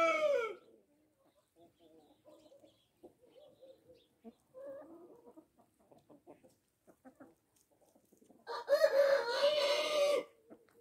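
Wyandotte chickens with pheasant-colored plumage: a loud crow opens, soft scattered clucks follow, and a second long, loud crow rises near the end.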